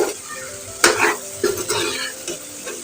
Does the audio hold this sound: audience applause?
no